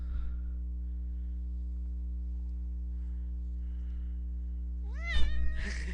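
Cat gives a single drawn-out complaining meow near the end while being tickled just above the tail, after a long quiet stretch under a steady low electrical hum.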